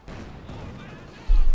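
A Panzer IV tank cannon hit lands in Company of Heroes 2, a single heavy low boom arriving abruptly after a stretch of muffled battle noise and commentary.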